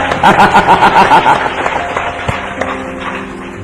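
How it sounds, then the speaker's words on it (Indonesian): A church congregation applauds during a sermon, a dense wash of clapping with scattered sharp claps, loud and steady across the stretch and mixed with some crowd noise. "Beri tepuk tangan yang meriah."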